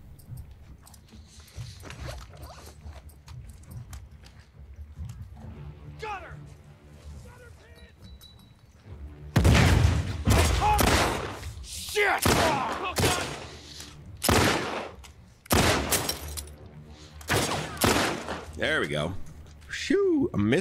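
Gunfire in The Last of Us Part 2, a cluster of sharp loud shots and impacts arriving in bursts through the second half, mixed with someone talking.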